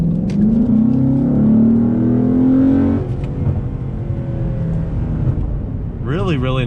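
2014 Ford Mustang GT California Special accelerating, its engine note heard from inside the cabin rising steadily in pitch, then dropping off and settling to a lower drone, with someone talking over it.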